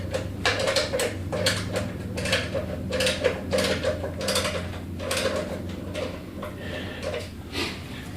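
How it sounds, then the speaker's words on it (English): Nuts on a David Bradley walk-behind tractor's cutting bar are loosened with a wrench, giving repeated close metallic clicks and ratcheting scrapes in a steady rhythm over a low background hum. "These nuts on either side, you just loosen them."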